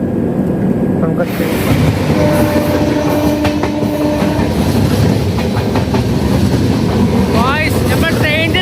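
Passenger train running, heard from inside a carriage, with a steady loud rumble and rhythmic clatter of wheels throughout and people talking and moving nearby.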